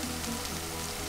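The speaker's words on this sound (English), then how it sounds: "sarson ka saag, just a little bit, and keep sauteing this." Sarson ka saag, mustard greens, sautéing in a pan with salt and haldi, a steady soft hiss and sizzle, no talk.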